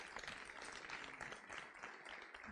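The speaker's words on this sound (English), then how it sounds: "Can we please give them a round of applause?" Audience applause at a school sports awards ceremony, a steady wash of many hands clapping for the full stretch, fairly quiet and distant-sounding with no voices over it.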